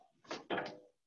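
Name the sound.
door being closed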